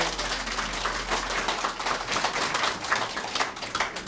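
A crowd applauds at the opening of a mayoral candidate's election campaign office in Yeongcheon, producing a steady, dense wash of clapping that fills the room throughout.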